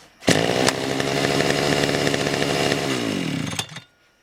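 Petrol grass trimmer running at high revs for about three seconds, a loud continuous buzzing engine close by, then cutting off abruptly into silence.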